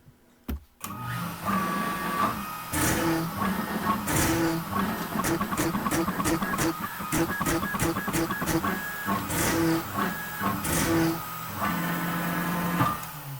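Longmill CNC router cutting a line-boring toolpath for a tiled pattern, a steady spindle whine with rapid repeated plunges and stepper-motor moves in rhythmic bursts, close and continuous, no talk.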